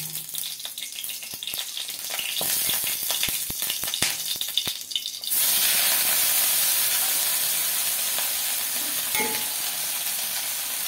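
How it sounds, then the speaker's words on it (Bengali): Chepa shutki, dried fish, fries in a wok, crackling and sizzling close up; the hiss swells sharply midway and stays loud and steady as the pieces cook, with occasional scraping. "এই কড়াইতে আমি ওই চেপা শুটকিটা একটু ভেজে নেব।"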